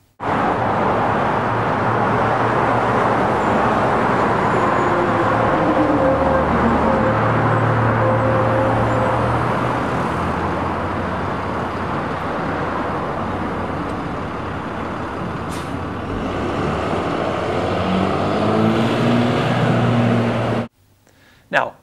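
Road traffic beside a stopped school bus as cars pass it, a continuous loud engine and tyre rumble rising and falling for about twenty seconds before cutting off abruptly.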